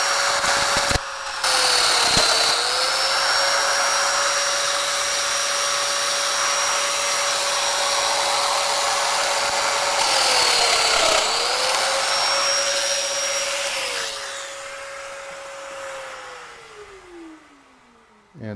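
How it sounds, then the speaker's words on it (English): A mortising machine at a woodworkers' guild meeting cuts mortises for loose tenons, giving a steady, loud motor whine with a rising high pitch that holds for about thirteen seconds, dips briefly, then winds down and stops near the end. "That's all this machine does, is make mortises."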